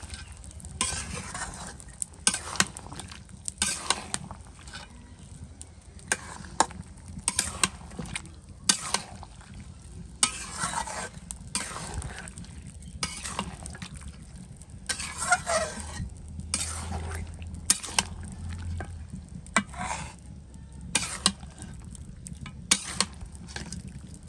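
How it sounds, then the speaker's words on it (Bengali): Masala frying in a pan, stirred over and over with a utensil that scrapes and clinks in irregular bursts over a low, steady sizzle, close up with no talking. "ভালোভাবে নেড়ে ঢাকা দিয়ে অনেকক্ষণ সময় নিয়ে কষাবো।"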